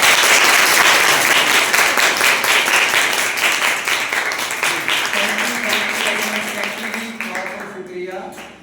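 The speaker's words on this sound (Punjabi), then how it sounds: "ਤਾੜੀ ਸਾਰੇ ਰੱਜ ਵਜਾਓ" Dense clapping from parents at a school parents' workshop, loud and continuous at first and then gradually thinning and fading, with a voice speaking near the end.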